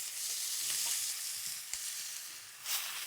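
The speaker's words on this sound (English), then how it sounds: "And again, just frying that off." Steady, close sizzling of beef, ginger and spring onion frying in a hot pan, with a brief stir or clink partway through and no voices.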